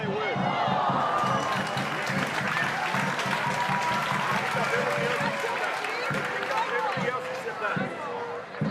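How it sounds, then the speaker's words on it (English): A crowd at an A-League football match between Sydney FC and Adelaide United applauds and cheers in a steady, lively wash, with a commentator talking over the noise throughout. "The energy is lifted, the crowd is lifting too."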